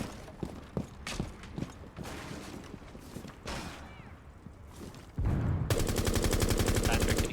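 Gunfire in a video game, with single DMR-style shots scattered among footsteps and movement, then a loud dense burst of rapid fire near the end; no talk, only game sound.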